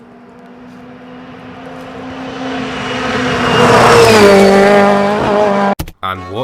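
A Skoda 130 LR rear-engine rally car, homologated in 1985, drives past with engine note swelling as it nears, rising in pitch and loudness to a peak before fading, then an abrupt cut to brief noise at the end.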